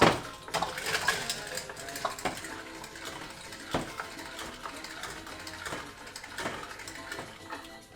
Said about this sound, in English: Mash it down